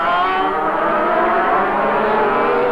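A race car at a 1984 international race in New Zealand roars past close by, a loud, sustained engine drone with a slight pitch sweep across the short stretch.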